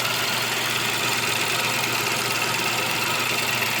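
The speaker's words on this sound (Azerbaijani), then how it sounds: "Belə bir 3 silindrli mühərrikimiz var." A Ford Focus with a 3-cylinder EcoBoost engine, one that stalls and then won't restart, idles with a steady, loud mechanical drone heard up close, with no talking.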